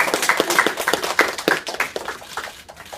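Schoolchildren give a big round of applause for a soldier home on leave who surprises his daughter at her school; dense, close clapping from many hands fills the few seconds with no voices over it.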